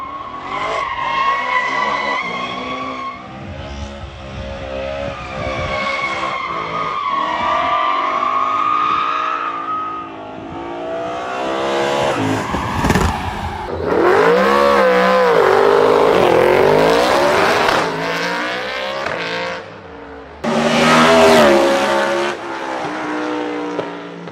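A naturally aspirated BMW E92 M3 revs hard with rising and falling engine howls while its tires squeal and skid, loud and close, with several sharp high screeches in bursts.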